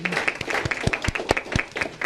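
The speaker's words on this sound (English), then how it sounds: "Abby and Andrea deserve a definite round of applause" Applause from a council meeting audience, brief scattered claps with a few sharp distinct hand strikes standing out, moderately loud and close, lasting about two seconds.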